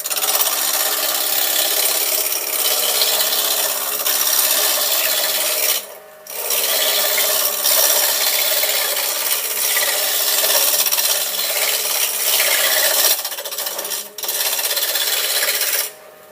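A wood lathe turns timber down to size, the tool scraping and rasping against the spinning wood in a continuous loud hiss, broken by two short pauses.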